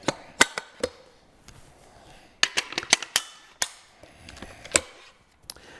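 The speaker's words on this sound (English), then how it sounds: "So if I put the gun back together again," Blaser FBX shotgun with grade 10 wood being put back together, a run of sharp metallic clicks and clacks from the parts seating and locking, sparse and close with short pauses between bursts, no talking.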